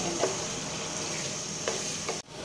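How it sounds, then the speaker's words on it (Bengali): Chicken stir-fried in oil crackles in a steady, moderate sizzle, with a few scraping stirs before the sound cuts off abruptly near the end. "5 থেকে 7 মিনিট আমি ভালো করে চিকেনটাকে কষিয়ে নেব।"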